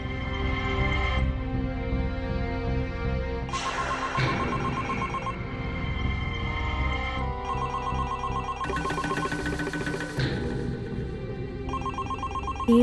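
A telephone ringing in a Hindi TV drama scene: repeated electronic bell-like rings in bursts with short pauses between them, loud and clear with no one talking over them.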